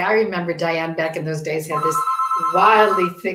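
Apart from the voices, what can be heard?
phone ringing in the background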